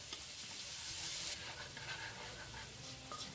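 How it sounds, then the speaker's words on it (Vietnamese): Garlic and shallots sizzle steadily in hot oil in a pan, a close, continuous frying hiss with faint stirring, and no one talks. "Mình cho một ít tỏi hành vào đây mình phi cho nó thơm."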